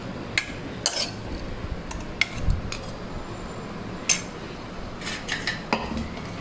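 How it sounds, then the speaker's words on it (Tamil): Metal pot lids set down over cooked beetroot-carrot and potato poriyal, several sharp clinks and clatters spread through a few seconds, fairly close, with a soft kitchen background and no talk. "இப்போ மேலே மூடி வச்சு பீட்ரூட் கேரட் பொரியல், இப்போ உருளைக்கிழங்கு பொரியல்,"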